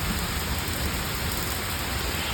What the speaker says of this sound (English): earlier in the week there was some rain coming through where it would be kind of like this